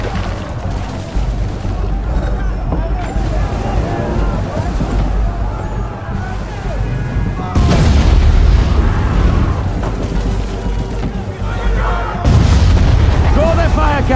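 Cannon fire from British gunboats during a naval battle in Assassin's Creed 3, deep booms and bursts layered over constant battle noise, growing louder in heavy volleys near the middle and end.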